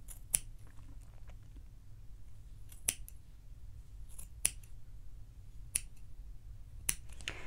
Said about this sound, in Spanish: Lo próximo que vamos a hacer será cortar todas las hebras que están cerradas.